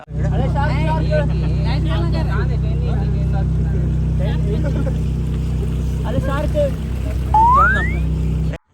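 A boat engine drones steadily at a low pitch throughout, mid-river, while people chat and call out over it, with one rising whoop near the end.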